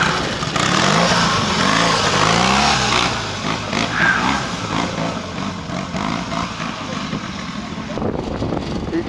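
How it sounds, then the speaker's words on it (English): Tri-Enfield trials motorcycle, a Triumph engine in an Enfield frame, ridden at a quarry, its engine revving and burbling close by, fading slightly toward the end. "Triumph engine and an Enfield frame."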